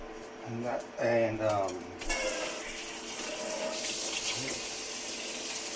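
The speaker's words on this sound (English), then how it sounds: "let me wash this out really fast" Kitchen tap water running into a sink while something is rinsed out, starting abruptly after a few seconds of brief voiced sounds and then flowing as a steady, close hiss.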